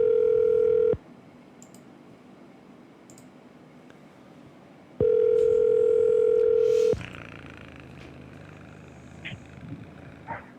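Two long electronic phone tones repeat with a pause between, like a line ringing while waiting for a pickup, followed by faint room noise.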